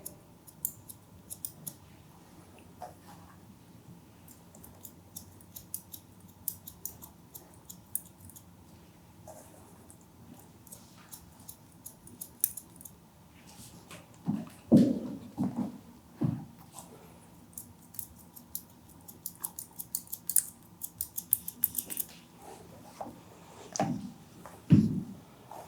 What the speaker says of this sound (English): So I will just do the natural fall and start with the point cut technique again.